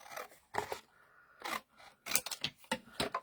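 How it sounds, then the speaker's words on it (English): Scissors trimming paper for a die cut machine at a craft table, several crisp close snips in uneven succession, separated by short pauses and nearly silent between cuts. "I think I'm just going to trim this down a bit, make it easier to go into my die cut machine"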